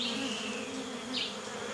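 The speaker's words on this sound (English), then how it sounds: "I can hear buzzing. I can hear like a deep drone, actually." Bees drone around a wild beehive in a steady, close, continuous buzz, with individual insects passing near.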